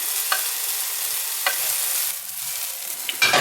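Beefsteak fungus frying in a pan, an even hissing sizzle with a few light taps and a brief louder scrape at the end, no speech.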